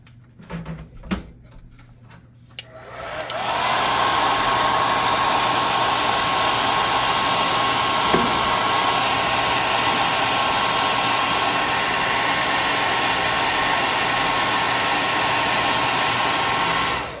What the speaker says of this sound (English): Let's get the hot air gun.